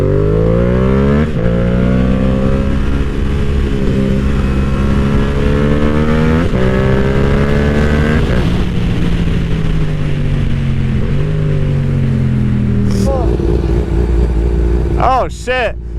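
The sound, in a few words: Yamaha R7 and Kawasaki Ninja ZX-12R motorcycles riding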